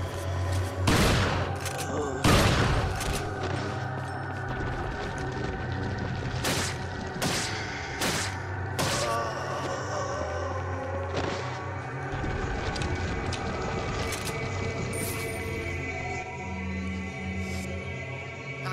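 Resident Evil 4 combat in a sewer level: loud shotgun blasts and gunfire bursts repeat irregularly through the clip over rumbling game ambience, with a voice talking at times.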